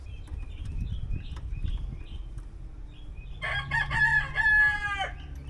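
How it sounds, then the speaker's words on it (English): A rooster crows once, loud and drawn out, over a low rumbling background with faint scattered bird calls. "I hear you, rooster."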